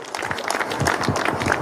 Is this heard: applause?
yes